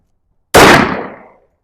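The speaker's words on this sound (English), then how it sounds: "Let's see how this does in the 1911 Sig Sauer 5-inch barrel." A single loud, close gunshot from a Sig Sauer 1911 with a 5-inch barrel firing 10 mm Ammo Inc 180 grain TMC at a range, a sharp crack with a short decaying ring-out afterward.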